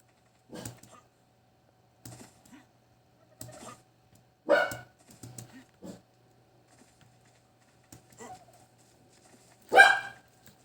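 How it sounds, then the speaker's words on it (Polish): A house dog barks in scattered single and double yaps, some loud and close, others softer, spread across a quiet room with long pauses between bursts. "i mój pies szczeka"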